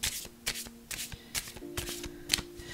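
Tarot cards being shuffled by hand during a card reading, a run of crisp riffling bursts in quick succession, close and fairly loud, with no talking over them.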